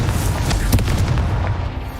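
A Confringo fire spell explodes in Hogwarts Legacy: one loud, close booming blast with a deep rumbling burst that fades over about two seconds.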